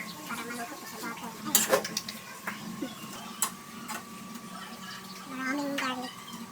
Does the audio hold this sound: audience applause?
no